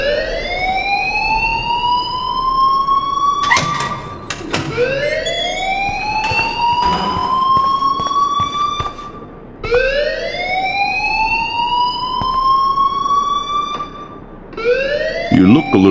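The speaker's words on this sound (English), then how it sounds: "please turn off that alarm" A fire alarm in the video game Life Is Strange wails in repeated rising sweeps, loud and continuous, with sharp clicks and bangs between the cycles.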